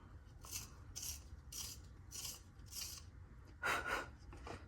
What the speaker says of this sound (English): I always sharpen it before I use it.